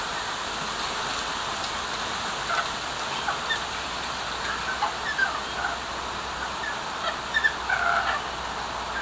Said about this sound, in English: That's their contented sound.